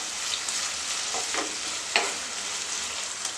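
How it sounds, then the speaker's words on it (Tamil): Onions and green chillies sizzle in a pan while being sautéed, a soft steady hiss near at hand. A few brief stirring scrapes break through it, and no one speaks. "2 பச்சை மிளகாயும் ஆட் பண்ணிக்கலாம். இப்போ இதெல்லாம் வதங்கட்டும்."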